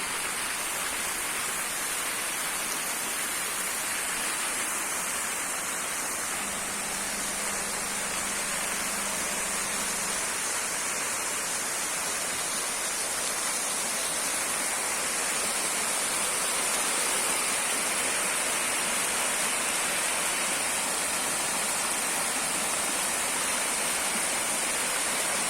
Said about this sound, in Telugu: ఇక్కడ గార్డెనింగ్ కంటే ఈ వాటర్ ఫౌంటైన్స్ చాలా బాగున్నాయి